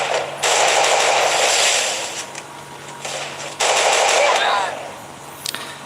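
Automatic weapon fire in a Free Fire online shooter match, loud sustained bursts of rapid shots in two long stretches separated by a short lull, close and dominant.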